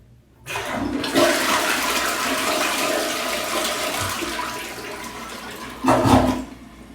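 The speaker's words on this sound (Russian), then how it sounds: "Нажимаем на ручку смыва." An American toilet flushes with a sudden loud rush of swirling water that holds steady for several seconds, then gives a second surge before quieting, heard alone in a small bathroom.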